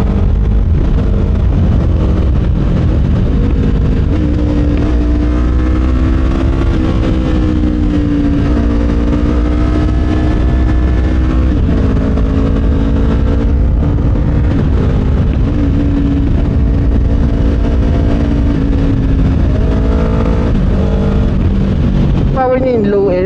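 A Kawasaki Ninja 500 motorcycle engine drones loud and steady while riding, its pitch rising and falling gently with throttle over a rushing layer of wind noise.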